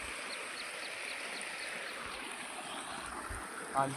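A stream swollen after rain rushes steadily with a broad, constant wash of flowing water, close and even throughout, with a brief knock near the end.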